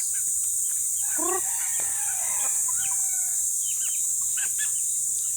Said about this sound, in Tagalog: ngayon patapain ko muna yung manok bago ako umalis